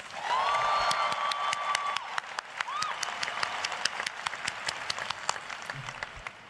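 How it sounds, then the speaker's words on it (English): A graduation audience claps steadily for several seconds, a dense wash of applause with scattered sharper claps and a brief voice near the start. "Give yourself a round of applause."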